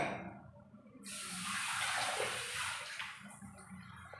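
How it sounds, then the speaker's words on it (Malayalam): Water from rinsing a mixer jar pours into a Kerala roasted-coconut fish curry, a steady close splash that swells after a brief quiet start and then eases slightly, with no talking. "നമ്മുടെ ആ മിക്സിയുടെ ജാറൂടെ കഴുകി നമുക്ക് വെള്ളം ഒഴിച്ചു കൊടുക്കാം"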